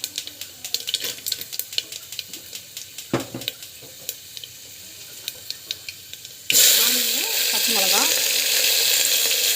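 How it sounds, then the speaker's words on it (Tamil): Mustard seeds, cumin and chana dal frying in hot oil crackle and pop in quick irregular bursts, then break into a loud, dense sizzle as more goes into the pan, with a voice faintly heard. "ஸோ கடுகு, சீரகம் போட்டுக்கோங்க, நல்லா வந்து பொரிட்டோம்."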